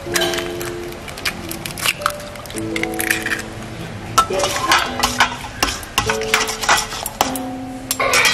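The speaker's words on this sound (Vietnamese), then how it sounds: "Giờ mình sẽ đảo lên." Sweet and sour pork ribs being stirred in a pan, with a utensil scraping, squelching and clinking against the metal in irregular close strokes, and a few sharp knocks among the wet shuffling.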